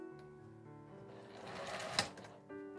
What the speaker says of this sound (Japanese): 開いて、この下の布の方に端ミシンをかけます。